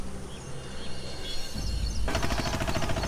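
An auto-rickshaw tyre bursts with a sudden firecracker-like bang, then a burst of harsh noise, after a quiet stretch with no voices.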